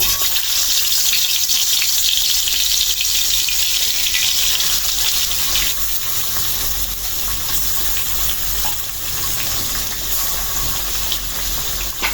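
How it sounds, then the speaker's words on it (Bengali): Native rayna and koi fish hiss and crackle in hot oil in a home kitchen pan, a loud, continuous sizzle that eases slightly after the first few seconds, with no talking. "তেল গরম হয়ে গেছে মাছ দিয়ে দিলাম"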